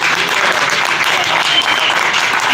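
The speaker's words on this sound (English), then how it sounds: "Everybody wants to give Mr. Lane Schrader another round of applause." Applause from the audience at a music competition round in Jenks, Oklahoma: dense, steady clapping from a crowd filling the whole stretch, loud and close.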